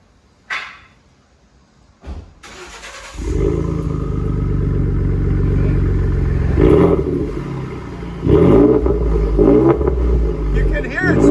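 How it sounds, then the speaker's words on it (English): A 2011 Ford F-150 EcoBoost V6 with straight pipes, a muffler delete and an angle-cut tip starts up and then idles and revs loudly nearby, with a sharp rise in the middle and another push near the end. "So it's got a muffler delete and a black angle cut tip."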